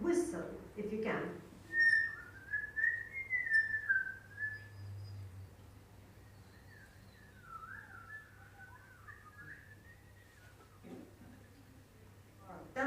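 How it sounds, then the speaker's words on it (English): A single wavering whistled tune from a public workshop audience drifts up and down, fairly soft, with brief murmurs and noises at the start and near the end. "those who can, you can try and whistle if you can."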